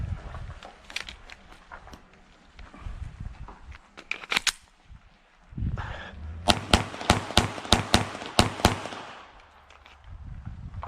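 Glock 44 pistol fired in quick drills at a cold outdoor range: a near, rapid string of sharp cracks in the second half, with scattered earlier shots and brief voices.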